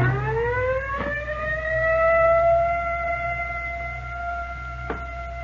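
An ambulance siren wails on its own, a loud rising tone that climbs and then holds as a steady sustained wail, close by, with a couple of brief knocks in the background and no talking.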